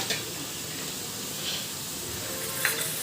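Okra and prawns frying with onions in a pan, a steady close sizzle with faint stirring clinks throughout.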